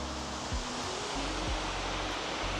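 Steady, dense rushing water from Thararak Waterfall in Phop Phra, Tak, Thailand fills the whole stretch, a broad continuous roar with low rumbling underneath and no voices.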